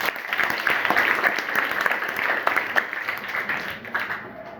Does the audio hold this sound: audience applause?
yes